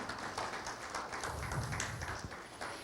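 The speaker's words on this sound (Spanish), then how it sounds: "Dele otro aplauso al Señor en esta mañana" Congregation clapping during a Spanish-language church worship service, a quiet, fairly rhythmic patter of hands heard from some distance without speech over it.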